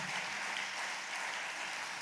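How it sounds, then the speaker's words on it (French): An audience at the presentation of a cultural season fills the hall with dense, continuous applause. The steady wash of many hands clapping is even and fairly loud throughout, with no voices standing out. "On peut les applaudir bien bien fort."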